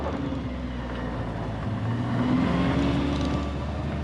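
A 2022 Nissan Titan XD truck crawls over logs off-road, its engine droning low and steady with muffled thumps and creaks from the suspension, the rumble swelling slightly midway through.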